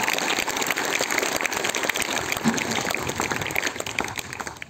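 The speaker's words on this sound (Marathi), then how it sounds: "तुमच्यासाठी एकदा जोरदार टाळ्या झाल्या पाहिजे" Students at Kambi High School in Kambi clap for a Gadge Baba death-anniversary program, a dense, steady crackle of many hands that holds loud and even for the whole stretch, with no voices over it.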